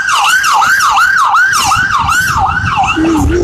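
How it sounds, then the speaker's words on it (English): Ambulance siren wailing loudly and close in a steady rising-and-falling yelp pattern, repeating about every half second, with a second lower siren tone joining near the end and faint traffic rumble underneath. "We got some ambulance activity."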